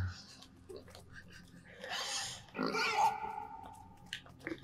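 A pig in a video game grunts and snorts in a few short bursts, close and moderately loud over a quiet background.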